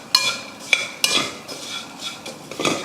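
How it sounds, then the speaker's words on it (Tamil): Fried dried fish being tossed and mixed in a pan, with sharp metallic clinks of a spoon against the pan at irregular intervals and softer scraping between them, close and fairly loud. "அப்போ வந்து வறுத்து வச்சுருக்க கருவாடை இதில் சேர்த்துட்டு நல்லா கலந்து விட்டுருவோம்"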